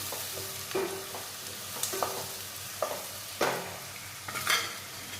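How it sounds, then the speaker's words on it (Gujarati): Sliced onions fry in a pan for an egg tikka masala, a low steady sizzle broken by several sharp scrapes and stirs of a utensil against the pan, with no talk. "હવે આપણે તેને પાંચથી દસ મિનિટ પ્યાજને આપણે શેકાવા દઈશું સરસ રીતથી"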